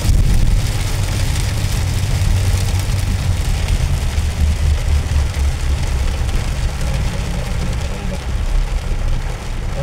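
Steady rain pours on a street in Saudi Arabia, a dense continuous hiss with low rumbling traffic and engine noise underneath throughout.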